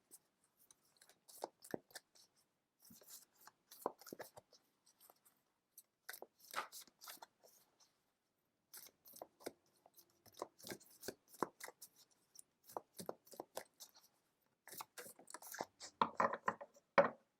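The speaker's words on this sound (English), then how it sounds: "I'm going to just shuffle the cards and then I will let you know what comes up." Oracle cards from a deck are shuffled by hand in quiet, close-up bursts of soft papery riffles and taps, irregular clusters separated by brief pauses.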